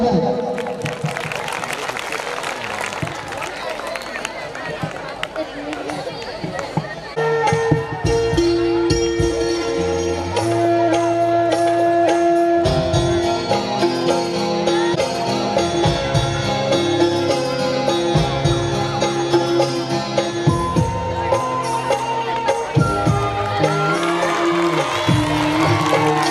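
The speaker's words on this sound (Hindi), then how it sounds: "क्या बात है, तालियां बजाएं।" An audience at a school annual function applauding and cheering for several seconds before music swells up and carries on over the crowd.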